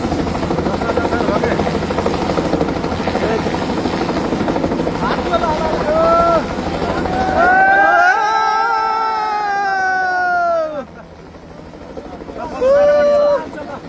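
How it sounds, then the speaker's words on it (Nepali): A helicopter flies over a flood-hit area in Rasuwa, Nepal, its steady loud rotor chop and engine whine continuous throughout, with wind buffeting the microphone and a voice speaking nearby. "भाइ बहिनीले त हेलिकप्टर चढ्नु पायो"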